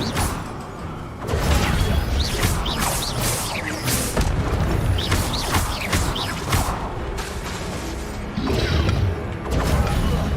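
Fire spell cast repeatedly in Hogwarts Legacy amid combat: loud, busy bursts of crackling whooshes and impacts filling the scene, with clashing hits and mechanical clatter in a steady run of action.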